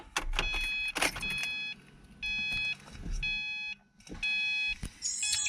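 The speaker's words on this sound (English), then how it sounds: "just gonna turn the car to on." Chimes from a Subaru as the ignition is switched to on, a series of bright, steady electronic tones in several bursts with short gaps, close and clear over a faint cabin hum.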